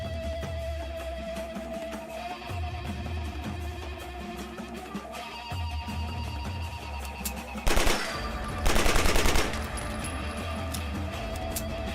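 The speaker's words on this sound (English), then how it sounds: "the next weapon is Uzi, the Boss by Sayahika, another classic one from the short and fast shooting family" An Uzi submachine gun fires in short, rapid bursts inside a modded Fallout 4 game, the crackling volleys sharp and loud over a steady background of game sound.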